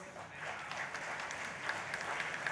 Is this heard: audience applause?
yes